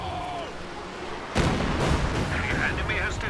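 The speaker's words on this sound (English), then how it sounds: "There's a Katyusha firing in this area." Katyusha rocket artillery fires in a World War II strategy video game, setting off a sudden loud, broad roaring blast that rumbles on to the end above a steady background of battle noise.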